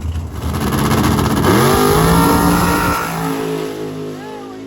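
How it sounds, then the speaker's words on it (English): A big block nitrous drag car roars off on its pass, the loud engine note climbing steeply in pitch through the gears before fading into the distance. "This is his first pass of the day. Big block nitrous car."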